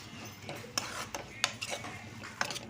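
Sambar powder and chilli powder stirred into a pan for ridge gourd curry, with a spoon scraping and clinking against the metal in irregular taps over a faint frying hiss.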